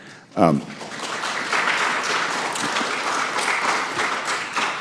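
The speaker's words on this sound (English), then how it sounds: "Y'all keep clapping, us politicians just keep talking." A crowd breaks into sustained applause, dense and steady, continuing for several seconds after a brief sharp sound at the start.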